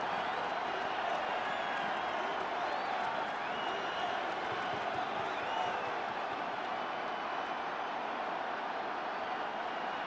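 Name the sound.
football stadium crowd cheering, Ravens at Steelers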